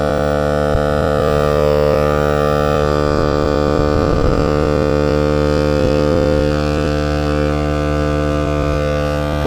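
A rechargeable electric pump runs steadily while inflating a high-pressure inflatable paddleboard, giving a loud, continuous motor hum and drone with slight wavering in its pitch, heard alone with no talk.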